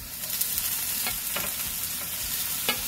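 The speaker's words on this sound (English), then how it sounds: "It's going to sizzle a little bit, so don't be afraid of the pop." Ingredients fry in a pan with a steady close sizzle, broken by sharp pops and crackles at irregular moments over about three seconds, with no talking.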